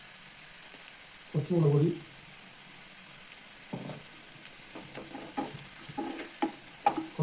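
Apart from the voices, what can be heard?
onions sautéed with spice powders in a frying pan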